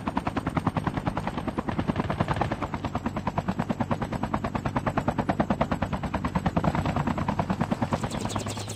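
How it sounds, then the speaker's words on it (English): Helicopter rotor chopping loudly and steadily in Call of Duty Mobile battle royale, its fast regular thumping filling the whole stretch while bursts of machine-gun fire crackle alongside it, with no talking. "Chopper here."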